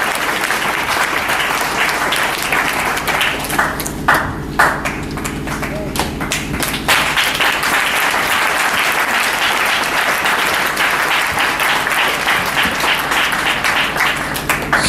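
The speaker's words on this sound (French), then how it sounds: "Acclamons très fort pour le Seigneur Jésus-Christ de Nazareth." A church congregation clapping loudly and continuously in unison, a dense steady roar of applause with a brief lull midway, voices mixed in underneath.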